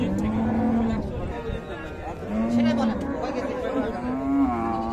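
Friesian cows with calves moo several times, long and drawn out, over the busy chatter of a crowd at Raniganj cattle market in Dinajpur.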